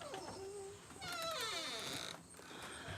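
A house cat meows at a door, a few close, rising and falling cries in quick succession, soft but clear with quiet room sound between calls.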